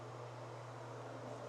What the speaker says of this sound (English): so sorry the fan is on in here